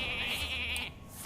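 A sheep bleats in the Hearthstone card game, one short wavering cry that is clear and close, with no talk over it.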